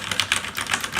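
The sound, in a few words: typing on Topre switch of Cooler Master NovaTouch TKL keyboard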